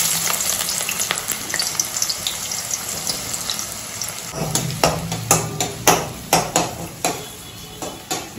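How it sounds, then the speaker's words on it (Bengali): Onions frying in hot oil for a chicken pulao, a constant crackling sizzle that grows busier partway through, with a run of sharp rhythmic knocks and scrapes of a spoon against the pan; no talking. "একটু পেঁয়াজটা জাস্ট একটু ভেজে নিতে হবে"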